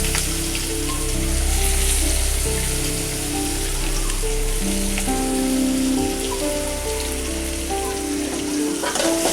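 Chopped onions sizzle in hot oil in a pan already holding fried prawns and turmeric, a steady, dense crackle like rain on a surface that runs close and fairly loud throughout.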